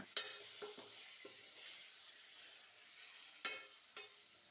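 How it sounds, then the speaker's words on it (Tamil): Faint sizzle of masala and cut tomatoes sautéing in a pan, with a few soft scraping stirs, quiet and close with no voices. "ரெண்டு தக்காளி கட் பண்ணி வச்சுருக்கேன் அதை இது கூட சேர்த்து நல்லா வதக்கிக்கலாம்"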